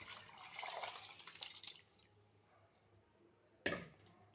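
Soaked rice water is poured into a pot of masala for chicken pulao, a splashing liquid pour of about two seconds that fades, followed by a single sharp clink near the end.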